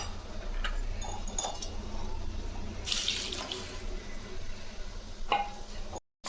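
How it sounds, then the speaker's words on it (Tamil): Water pours into a pan of simmering tomato curry, a close, steady splashing stream with a couple of light clinks and a short bright burst midway, cutting off abruptly near the end. "இன்னும் கொஞ்சம் தண்ணி சேர்த்துக்கலாம்."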